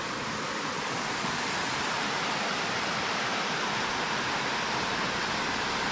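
Waterfall at Cachoeira Areia Branca in Alto Alegre, SP, roaring as a steady, loud, broadband rush of falling water that holds unchanged throughout, with no voices.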